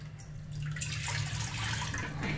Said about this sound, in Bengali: দুধ পুলির খোল তৈরি করার জন্য প্রথমে 2 কাপ জল কড়ায় নিয়ে নিতে হবে।